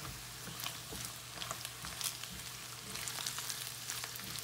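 Onion browning in a frying pan while cooking nopales with steak, giving a steady, close sizzle and crackle of hot oil with small spattering pops throughout and no talk.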